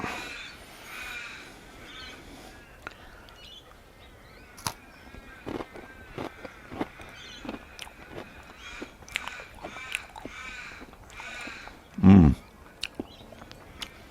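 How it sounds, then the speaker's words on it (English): Crows caw intermittently in the background outdoors, with sharp clicks and taps nearby and one louder thump. "With all my crow mates, if you can hear them."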